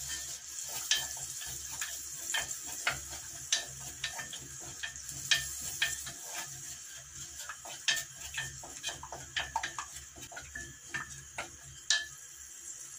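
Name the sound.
stirring tajine sauce with garlic and red chili sauce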